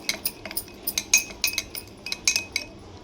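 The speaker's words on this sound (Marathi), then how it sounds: "आता पावडर सगळं मिक्स करून घेऊया" A spoon stirs lemon powder into water in a glass, giving a run of bright, rhythmic clinks against the glass, close and clear with no talking.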